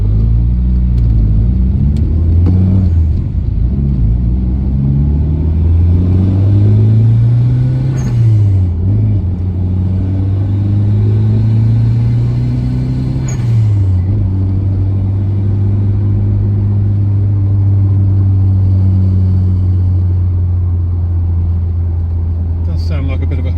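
A 1989 Toyota Celica GT-Four ST185 rally car engine drones steadily while driving, with rising and falling revs through gear changes; a loud, close, continuous rumble carries through the whole stretch.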